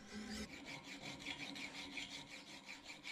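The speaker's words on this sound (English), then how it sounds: "Filing down the shoulders on this bolster" A hand file rasps across the bolster shoulders of a large integral Bowie knife forged from a truck spring, in quick regular back-and-forth strokes, close and moderately quiet.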